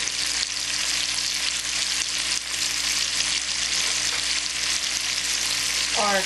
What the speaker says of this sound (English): add our chopped onions